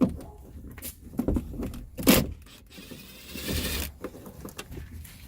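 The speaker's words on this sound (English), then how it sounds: "I use an impact, but you can use a red screwdriver." An impact driver backs screws out of a Jeep's side rail during top removal, in short whirring bursts with mechanical rattles and clunks between them, close to the listener.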